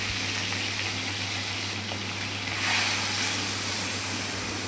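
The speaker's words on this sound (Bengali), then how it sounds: "দিয়ে আমি চিংড়ি মাছগুলো ভেজে নিচ্ছি।" Shrimp fry in hot oil in a wok, giving a steady, dense sizzling hiss that swells louder partway through, with no voices.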